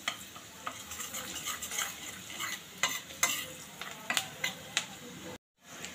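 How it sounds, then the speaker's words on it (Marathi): A spoon stirs besan (gram flour) roasting in a pan, scraping steadily with soft sizzling and repeated sharp clicks against the metal before a brief cut to silence near the end. "बेसनसुद्धा आपल्याला छान भाजून घ्यायचं आहे."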